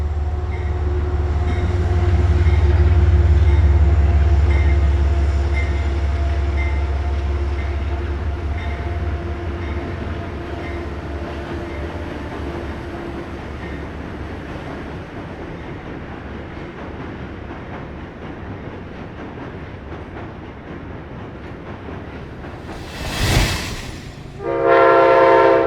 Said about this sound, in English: The train approaches Spuyten Duyvil Bridge, where it will cross out of Manhattan and join Metro-North's Hudson Line